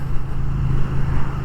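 A Triumph Thruxton RS motorcycle rides along village back roads, its engine a steady, close, throbbing drone with slight surges, heard alone.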